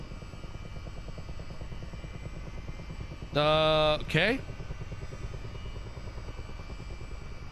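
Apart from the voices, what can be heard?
Chinook helicopter taking off in video game Microsoft Flight Simulator 2024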